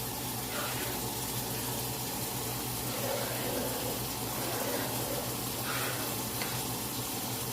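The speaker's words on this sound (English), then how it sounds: "I'm going to add another full portion of that hot water" Steady rushing, hissing noise of hot water poured into a pan of pork chop drippings to make gravy, continuous and fairly loud throughout, with faint sizzling texture and no talk.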